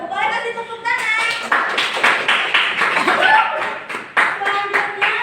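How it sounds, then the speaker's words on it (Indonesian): Primary-school pupils in a classroom clap their hands, a dense, close patter of applause with brief uneven bursts, punctuated by a few children's voices and chuckles. "Boleh kasih tepuk tangan."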